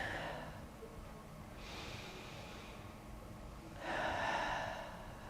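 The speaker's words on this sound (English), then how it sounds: "Take a couple of deep breaths in and out and just lift the chin slightly." Deep breathing during a seated chair yoga stretch, with two slow audible breaths, one around the middle and a louder, fuller one near the end, both close and unaccompanied by talk.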